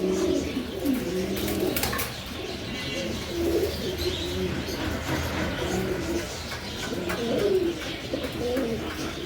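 Pigeons coo softly and repeatedly with low warbling calls over a busy background, moderately close, with faint speech mixed in.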